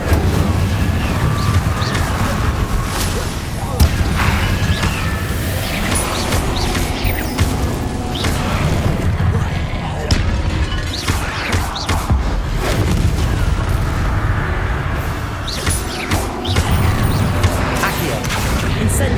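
Spell-casting combat in Hogwarts Legacy, with dense overlapping booms, crashes and magical impacts forming a loud, continuous battle din, and voices shouting throughout.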